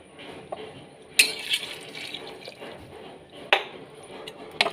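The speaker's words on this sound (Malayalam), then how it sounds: "ചൂടുവെള്ളം ഒഴിക്കാം" Hot water is poured into a pot of tapioca and chickpea curry: a soft, steady splashing pour with a few sharp clinks of metal cookware, close by and with no talking.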